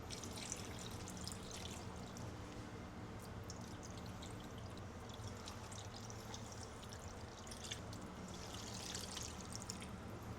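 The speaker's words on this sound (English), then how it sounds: "to the brim with water." Water is poured into a pot to fill it for homemade bone broth, a faint, steady splashing trickle that runs continuously for about ten seconds with no speech.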